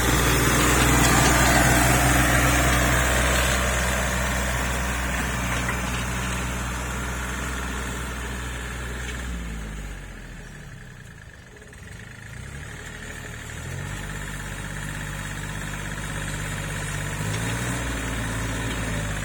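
A farm tractor's engine runs steadily throughout, a loud continuous idle with a low throb that dips briefly in the middle before settling back to an even hum.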